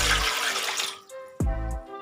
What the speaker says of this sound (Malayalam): ഇനി ഇതിലോട്ട് 3 കപ്പ് വെള്ളം ഒഴിച്ചു കൊടുക്കാം.